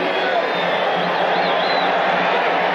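A football stadium crowd of nearly 50,000 at a 1985 USFL game makes a steady, loud roar of cheering that fills the whole stretch without a break.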